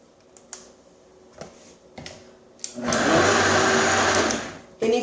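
Blender whirring loudly through a vegan fudgesicle mixture, starting after a few small clicks and taps and running steadily for about two seconds before cutting off.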